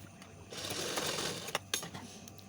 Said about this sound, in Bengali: কান্দা সেলাই করার পরে আমি ডবল ডবল দুটোই সেলাই করে নিচ্ছি